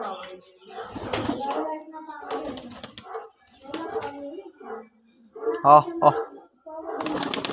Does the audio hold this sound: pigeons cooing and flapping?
yes